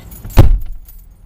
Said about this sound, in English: Why did you bring these keys? They don't go to this car.